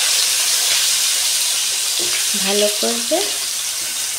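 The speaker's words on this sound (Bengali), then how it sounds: "তেল গরম হয়ে গেছে, তার মধ্যে ডুমো করে কাটা আলু" Diced potatoes fry in hot oil for a banana-flower curry (mochar ghonto), giving a steady, close, broadband sizzle that runs throughout, with a voice speaking briefly over it near the middle.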